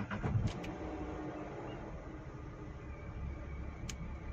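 The 800 cc engine of an inexpensive SUV cranks and catches with a brief burst, then settles into a low, steady idle rumble heard close by, with no voices.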